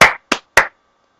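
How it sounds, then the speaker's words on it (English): A single person claps hands three times, close and loud, each sharp clap separated by a short pause and followed by silence. "I'm going to do a clapping episode here. Round of applause."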